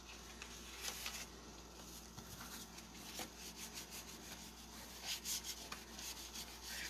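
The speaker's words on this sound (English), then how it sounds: "Just taking my bone folder and burnishing that on the edge." A bone folder burnishes the fold of a paper card, giving soft, close, repeated rubbing strokes in an irregular rhythm, faint and alone.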